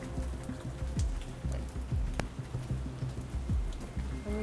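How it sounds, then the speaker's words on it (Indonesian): Rain falls steadily outside an abandoned sugar factory, a continuous hiss of drops on surfaces with soft low thuds underneath and no talk. "Ditambah lagi hujan ya, menambah suasana."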